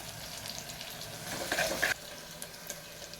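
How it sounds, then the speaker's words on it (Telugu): Green chillies, onion, mint and ginger garlic paste fry in a pan with a soft, steady sizzle and a brief louder crackle of stirring, close and fairly quiet, with no talking. "పచ్చిమిర్చి, ఆనియన్ వేపుకోవాలి. వేగుతుంటే పుదీనా వేయాలి."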